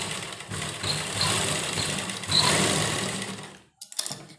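Sewing machine stitching pleats into pyjamas, a fast even mechanical whirr running steadily at close range, then stopping with a few short clicks at the end.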